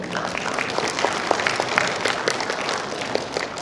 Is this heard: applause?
yes